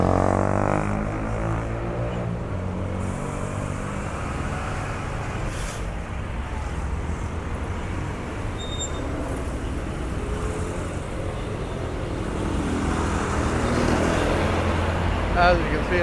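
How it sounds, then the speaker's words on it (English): Traffic rolls along a busy highway in Guayabitos, Nayarit, with buses, quads, motorcycles and cars passing close by in a steady roar of engines and tires. "Buses, quads, motorcycles, people walking, cars."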